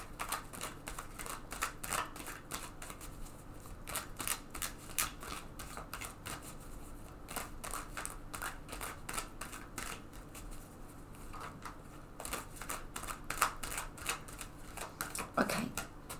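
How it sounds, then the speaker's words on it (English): A deck of tarot cards being shuffled over and over, with soft riffling and flicking bursts repeating throughout, close and fairly quiet. "I'm just going to shuffle this deck several times."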